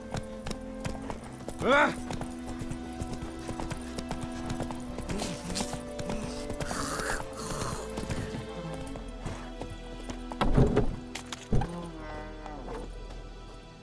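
Roach, the horse in The Witcher 3, clip-clops along at a steady gait over a game soundtrack, with a whinny and shouted voices breaking in along the way.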